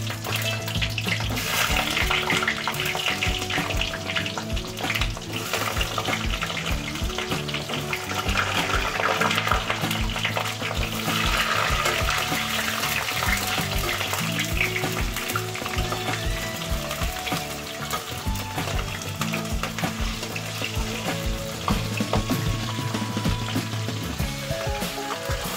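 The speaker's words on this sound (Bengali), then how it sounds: "এর মধ্যে আমি এখন গোটা পেঁয়াজগুলো একটু দিয়েছি।" Whole onions frying in hot oil for a mutton curry with potatoes, a steady, dense sizzle that holds loud and even throughout, with faint stirring scrapes beneath.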